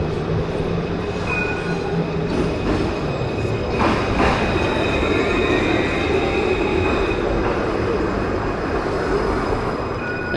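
A tram rolls past up close, its wheels rumbling and clicking on the rails with brief metallic squeals, loud and steady throughout without any voices.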